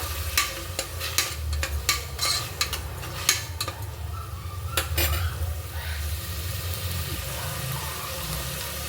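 Tomatoes fry with salt and turmeric in a pan, a steady sizzle beneath repeated sharp metal scrapes and clinks of a spoon stirring against the pan, busier at first and then easing off.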